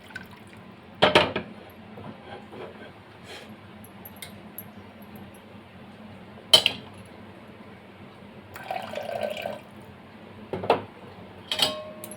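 Hot water poured into softened moong dal in a pressure cooker pot, a brief, faint liquid pour near the end among a few soft clinks of utensils, with no talking.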